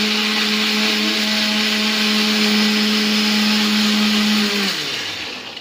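A blender grinds tomatoes steadily at high speed for several seconds, loud and close, then winds down and stops near the end.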